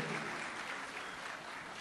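Audience applause, a dense continuous wash of clapping across the whole short stretch, fairly loud and with no talk over it.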